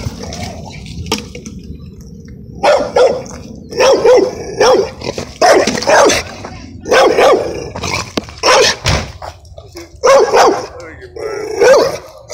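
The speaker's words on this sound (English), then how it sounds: "Yeah, it's my dog." A dog barks in repeated loud bursts at close range, mixed with overlapping shouting voices during a heated outdoor confrontation on a property.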